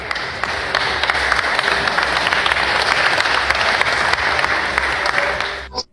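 A crowd at a court inauguration ceremony claps steadily, loud dense applause that holds for several seconds and then cuts off abruptly.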